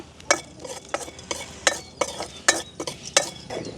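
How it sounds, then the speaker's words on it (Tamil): Cardamom pods being lightly dry-roasted in a pan while a spoon stirs them, giving about seven sharp scraping strokes at a steady rhythm, close and clear with no talking. "ஏலக்காயை நாங்கள் கொஞ்சமாக சாதுவாக வறுக்க போகிறோம்"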